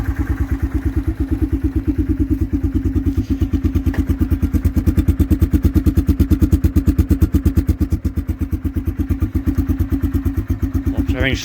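A 2004 Yamaha Kodiak 450 ATV single-cylinder engine idling after a cold start, a loud, close, steady rapid chugging pulse that holds an even rhythm throughout.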